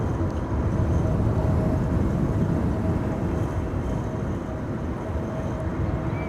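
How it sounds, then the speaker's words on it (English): A KLM Airbus A321neo arriving from Berlin at Amsterdam Schiphol in high storm winds, heard as a steady, loud broadband roar with a faint whine that holds throughout, with no voices. "This is KLM Flight 1776 arriving from Berlin, A321neo."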